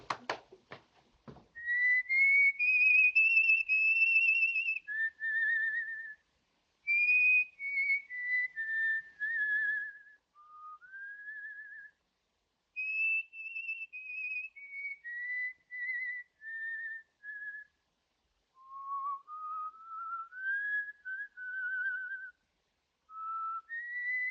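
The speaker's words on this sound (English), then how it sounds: "I wish he put his whistle out." A man whistles a long, wandering tune alone for over twenty seconds, bright melodic phrases separated by short pauses, preceded by a couple of sharp knocks at the start.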